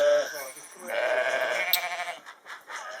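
Sheep bleat repeatedly in a wavering chorus, several animals calling over one another at close range on a shearing floor, with some background noise.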